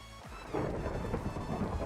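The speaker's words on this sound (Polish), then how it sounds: "Burza!" A thunderstorm with rain in Minecraft, a low rumble of thunder swelling in over steady rain hiss, fairly close and quiet, with no talk.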